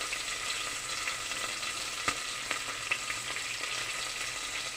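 Green chillies and curry leaves fry in a pan with a steady, bright sizzle and a few sharp crackles and pops, close and continuous, with no talking.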